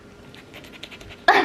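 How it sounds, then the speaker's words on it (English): A dog pants in quick, soft, rhythmic breaths indoors after play, faint and close, ending in a sudden louder burst. "The dogs are heavy breathers"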